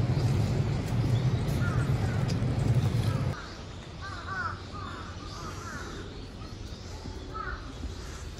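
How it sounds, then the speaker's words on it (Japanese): Crows cawing around the streets of Onomichi, Hiroshima, with several short harsh calls scattered through the clip over steady outdoor ambience that drops from a louder low rumble to quieter background partway through. "どこ行って動画撮ってもカラスが鳴いてるよね"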